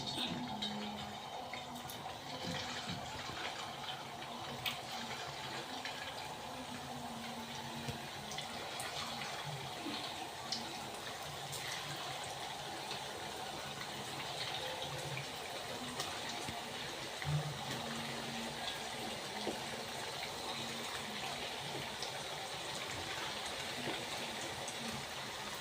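Rice kofta frying in hot oil, a steady dense sizzle and crackle that holds at an even level throughout, with no voices over it.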